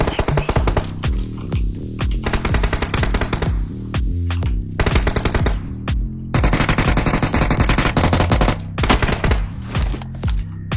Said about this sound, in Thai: ถ้าไปยิงซ้ายก็โดนขวายิง ยิงขวาก็โดนซ้ายยิง